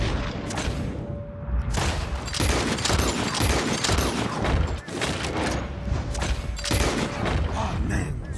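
Rapid volleys of gunfire aimed at birds in the video game Red Dead Redemption 2, with loud, close shots cracking repeatedly in dense bursts over about eight seconds and faint voices underneath.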